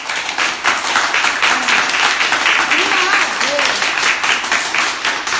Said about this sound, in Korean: 다시 한번 중간에 박수 치겠습니다